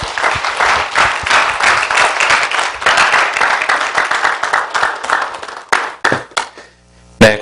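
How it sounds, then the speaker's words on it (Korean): A church congregation gives loud, sustained applause to welcome the pastor to the pulpit, a dense wash of many hands that thins into scattered claps near the end. "우리 조충현 목사님 나오실 때 큰 박수를 여러분께서 환영해 주시면 감사하겠습니다."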